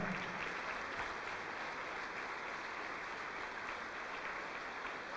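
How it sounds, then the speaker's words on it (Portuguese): Church congregation applauding during a service, a dense, steady wash of clapping that holds at an even level throughout without pause. "Vamos aplaudir, igreja."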